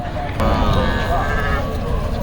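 Goats bleat at a busy cattle and goat market in the rain, one drawn-out nearby bleat standing over crowd chatter and background voices.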